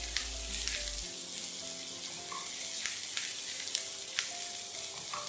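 Capsicum frying in a pan for a masala egg sandwich fills the clip with a steady bright sizzle, with occasional crackles and soft stirring ticks throughout.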